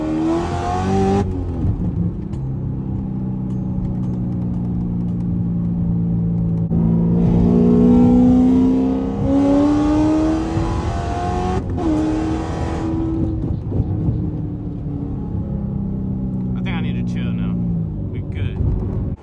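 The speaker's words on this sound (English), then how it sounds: "I hope you guys enjoyed the pulls of the C7 ZR1" An 800 hp Chevrolet Corvette C7 ZR1 with a manual gearbox accelerates hard, engine note rising in long sweeps between gear changes, loud and close from inside the car, while someone talks over parts of the pull.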